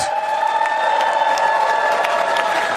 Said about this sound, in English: Give some round of applause